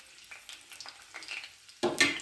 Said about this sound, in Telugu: ఆ నూనె వేడెక్కింది. అందులో పచ్చిమిర్చిలను వేస్తున్నాము